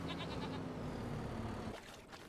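Goats bleat faintly in Farming Simulator 25, a few soft calls against a steady low farm-game background hum.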